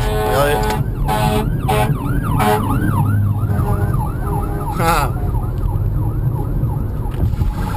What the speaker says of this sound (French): Voilà, les pompiers à l'américaine.